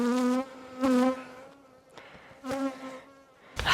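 Aggressive bees at a hive inspection on a hot summer day, buzzing loudly in close passes that swell and fade several times, each drone rising and falling in pitch as insects fly near, with no talk.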